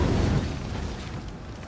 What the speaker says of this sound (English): Look at all the shots from the artillery, too.